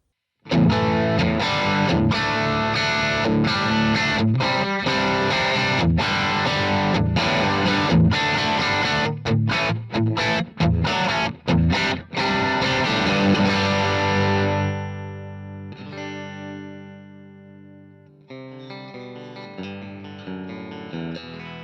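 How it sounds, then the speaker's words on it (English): A heavily overdriven electric guitar plays loud, sustained chords and riffs through a crunchy Marshall Plexi-style amp tone, then thins out to a few quieter ringing notes. "it's a great Marshall Plexi kind of tone with no special stuff"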